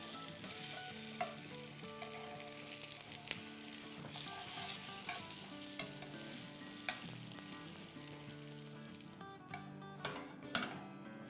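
Banana Nutella French toast fries in a pan with a constant close sizzle and occasional crackles, with faint background music and light clinks of utensils near the end.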